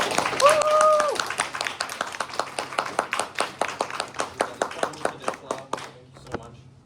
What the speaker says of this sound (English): So everyone, a big round of applause for that.